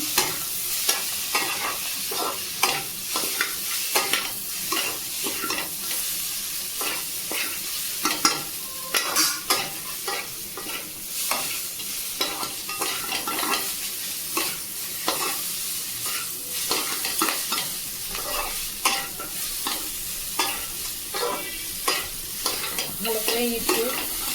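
A utensil scrapes and tosses Maggi noodles in a hot sizzling wok, with repeated clattering strokes in an irregular rhythm, close up and without talk.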